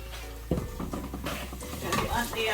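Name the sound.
stirring ketchup into sautéed garlic in a pan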